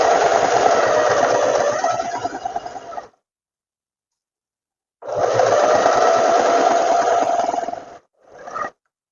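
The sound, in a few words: sewing machine stitching front panels of a tailored vest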